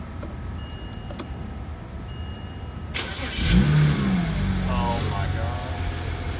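A rebuilt BMW E90 335i with the N54 engine cranks and fires up, settling into a loud, steady idle after a quiet stretch, with excited voices reacting over it.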